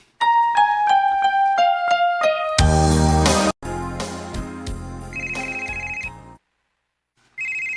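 Phone ringtone for an incoming call: a loud repeating melodic electronic chime with descending notes, followed by a denser musical passage and short high beeps, with a brief silent gap before the tone resumes.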